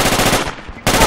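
Loud, rapid bursts of video game gunfire in a mosque assault, a continuous rattle that breaks off briefly before resuming at full volume, close and harsh.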